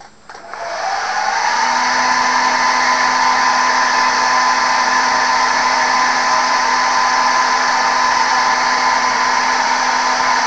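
Hair dryer blowing steadily on a freshly painted 28mm WWII German Fallschirmjager miniature, switching on with a short ramp-up and then holding a loud, even whoosh with a constant motor whine, no talk.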